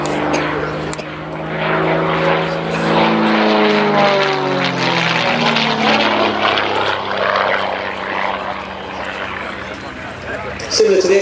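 A Gamebird GB1 aerobatic propeller aircraft performing a torque roll at an air display, its engine droning loudly with a rising and falling pitch as it rotates, while a commentator talks over it.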